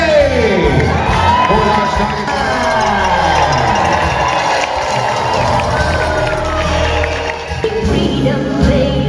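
Crowd cheering and whooping at Dolly Parton's Stampede dinner show, a loud, sustained roar of voices with children shouting, the excitement swelling over a rumbling arena background with an announcer-style voice mixed in.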